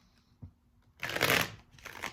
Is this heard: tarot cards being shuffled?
yes